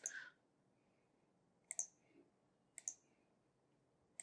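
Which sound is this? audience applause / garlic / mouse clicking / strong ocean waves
mouse clicking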